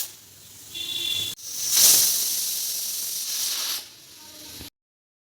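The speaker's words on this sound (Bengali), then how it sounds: "কাঁঠালের বীজগুলো দিয়ে আমি প্রেসার কুকারে দুবার সিটি দেব" A pressure cooker vents steam while boiling jackfruit seeds, giving a loud, steady hiss that rises to a sharp peak near the start, holds for a few seconds, then cuts off abruptly into silence.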